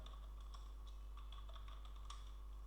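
Faint, quiet typing on a computer keyboard while writing Bootstrap 5 web page code, a scattering of light key clicks over a steady low hum with no talking.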